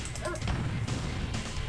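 Attack dogs barking and yipping in the real-time strategy game Command & Conquer: Red Alert, several overlapping barks in a busy burst over low game rumble.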